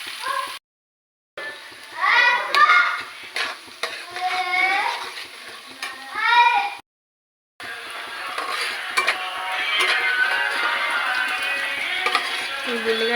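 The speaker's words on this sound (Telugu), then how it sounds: "ఒక సెకండ్ 2 సెకండ్స్ అట్లా హై ఫ్లేమ్లో ఆనియన్స్ ఫ్రై చేసుకుంటే కొంచెం బ్రౌన్ కలర్ వచ్చిన తర్వాత" Onions frying on a high flame as a cook stirs them, a steady sizzle with scraping and clinking of a utensil against the pan, broken by brief gaps, with some voices in the background early on.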